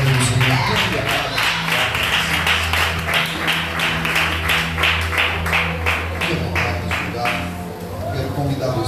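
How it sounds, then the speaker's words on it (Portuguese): A church congregation at a worship service claps in a steady, rhythmic beat, the sharp repeated claps mixed with music and a voice speaking over them throughout. "Aplauda o Senhor em nome de Jesus"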